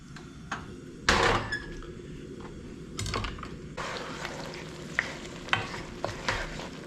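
Tomato-based sauce in an eggplant and chickpea skillet bubbles and sizzles steadily over high heat, with occasional stirring clatters up close and no speech.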